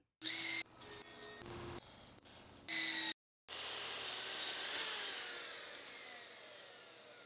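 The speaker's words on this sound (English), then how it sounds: "I begin by cutting all my parts to rough length at the miter saw" Miter saw cutting Western Red Cedar boards to rough length in a workshop, with several short loud cuts followed by one long steady cut that slowly winds down, no talking.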